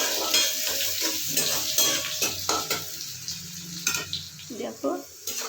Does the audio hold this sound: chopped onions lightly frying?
yes